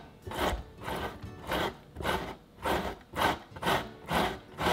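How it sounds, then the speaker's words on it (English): A peeled beet is pushed down a grater in rhythmic strokes, a close, soft wet rasping repeated about eight times at an even pace. "Just take the beet and push it down on the grater in strokes."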